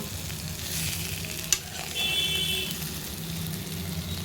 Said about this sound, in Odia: ଟିକେ ଖୋଲା କରି ରଖିଦେଲେ ଭଜାଟା ହେଇଯିବ